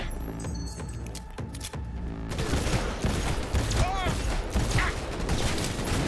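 Gunfire from a weapon in the video game Cyberpunk 2077, a dense burst of shots and mechanical clatter after a quieter stretch, mixed with game sounds and a voice talking over it.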